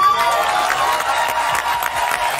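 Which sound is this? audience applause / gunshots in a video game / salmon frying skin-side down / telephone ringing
audience applause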